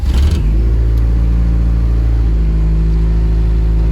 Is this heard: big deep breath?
no